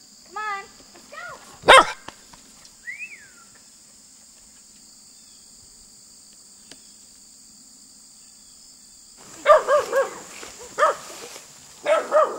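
A Norwegian Elkhound barks at a wheelbarrow outdoors, a few sharp yips early on, then a burst of repeated barks near the end, close and loud, with insects or crickets droning in the background.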